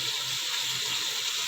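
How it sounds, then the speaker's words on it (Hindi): Water pours steadily into a cooking pot holding beef bones for nihari, a continuous close splashing stream with no talk over it. "तो फिर मैं इसमें पानी डाल के तकरीबन"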